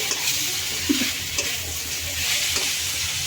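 Cauliflower frying with salt, chili and turmeric in a home kitchen, a steady close sizzle with soft stirring scrapes and no talk.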